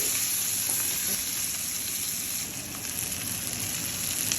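Bitter gourd bhaji browning in a pan, giving a low, steady hiss of frying with faint crackles and no voices.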